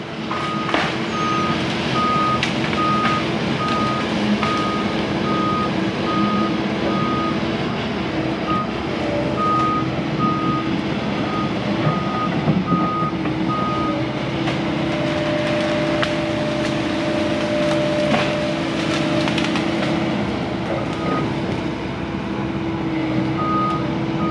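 A bulldozer drags a big tree out to a field, its engine rumbling and grinding steadily throughout while a repeating reversing beep pulses at a regular rhythm for long stretches, no talk.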